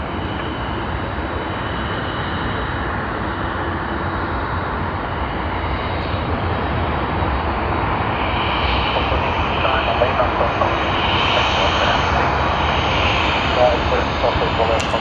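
Jet airliners, including a Boeing 747, Boeing 777 and Airbus A380, operate at Sydney Airport, producing a loud, steady engine roar that fills the whole stretch and swells slightly toward the end.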